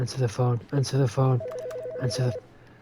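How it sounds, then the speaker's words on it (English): A steady electronic telephone ring pulses through a frantic scene, rising under several people talking and shouting over it in short bursts. "It's that phone. We can't answer it. Answer the phone."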